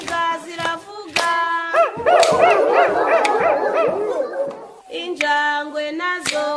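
Dog barking sung as part of a children's animal sounds song: repeated bark-like calls over clapping and music, with several quick overlapping yips in the middle.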